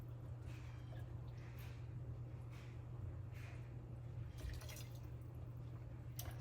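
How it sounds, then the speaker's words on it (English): Broth with onions and celery is poured over jasmine rice for congee, making scattered wet drips and splashes over a steady low hum. "I'm just going to pour it over my jasmine."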